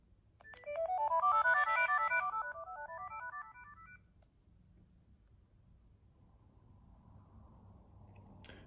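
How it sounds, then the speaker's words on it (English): A Sony CMD-J70 mobile phone powers on with a bright rising electronic startup melody of quick stepped tones lasting a few seconds, then near silence with faint background hiss. "Let's turn it on and let's see what kind of animations and sounds it will show."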